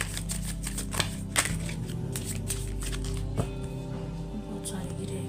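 Tarot cards being shuffled, a steady papery riffle of repeated card flicks with a few sharper snaps, running continuously at moderate loudness, with a faint voice in the background.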